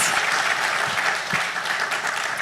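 Audience applause for panelists at the close of a side event on ocean governance, a steady dense wash of many hands clapping throughout, fairly loud and even, with no speech over it.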